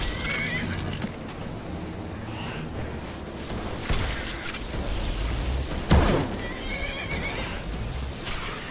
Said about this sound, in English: Do not kill that horse.